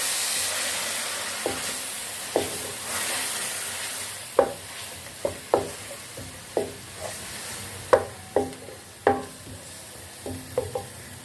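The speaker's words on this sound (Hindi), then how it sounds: "अब इसमें हमने 1 से 2 हरी मिर्चें कट कर ली, वो डाल लेंगे इसमें और इसको हम अच्छे से मिक्स कर लेंगे।" Chopped tomatoes and green chillies sizzling in a hot pan while being stirred for a chicken and ridge gourd keema, with a constant fry hiss broken by repeated sharp scrapes and knocks of the spoon.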